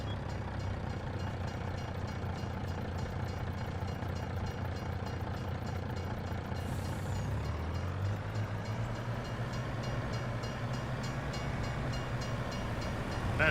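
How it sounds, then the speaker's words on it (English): Train rumbling past in Farming Simulator 22, a steady loud low drone of rail cars with engine hum that shifts in pitch partway through and continues throughout without talk. "Here comes a train."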